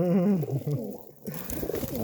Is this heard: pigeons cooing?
yes